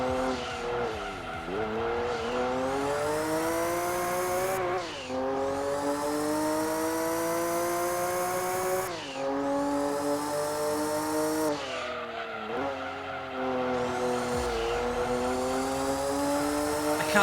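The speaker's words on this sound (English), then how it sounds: "Maybe the sound of this Porsche can soothe you." A Porsche race car in Gran Turismo 2 at Grand Valley screams at high revs, rising through gears with brief dips at each shift, steady and loud throughout with a touch of tire squeal.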